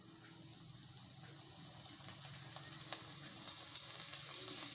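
Moong dal batter fries in hot oil for crispy namkeen, giving a steady low sizzle with a few sharp pops and crackles, no voices.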